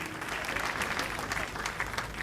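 Applause from a gala audience for nominees Binta Diop and Youssou Ndour at the Soirée Cauris 2012 awards, a brief burst of dense clapping with some crowd murmur underneath, moderately loud and steady.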